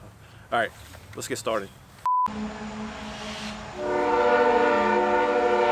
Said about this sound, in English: The train decided to come by